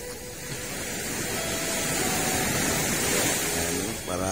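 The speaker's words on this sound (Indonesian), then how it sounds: "Ombaknya lumayan ini. Lumayan besar sampai pinggir." Fairly big ocean waves break onto the shore of the Bali Strait, a broad, loud wash of surf that swells steadily and then fades, with no voices present.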